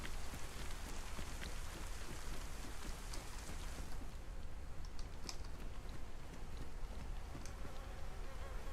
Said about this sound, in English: plus I can't hear steps over the rain.